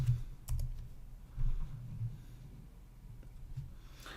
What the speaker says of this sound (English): you can always go into Google search and type up Gmail sending